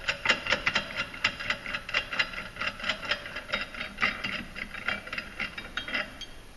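An EPI CCT520 clutch compression tool eases off as the clutch spring rises and its tension releases, giving a steady run of sharp metallic ratcheting clicks at close range with no talk.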